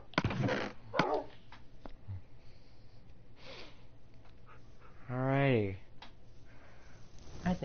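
Several Minecraft puppies give short snorts and yips in a game scene, with a louder whimpering or whining run near the middle over a low steady background hum.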